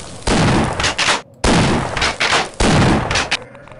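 Bursts of automatic gunfire in the Half-Life video game, three loud sustained volleys separated by brief pauses, close and harsh.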